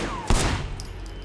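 A single sharp burst of gunfire from the video game Sleeping Dogs cracks out loud and close, its echo trailing off into a quieter background.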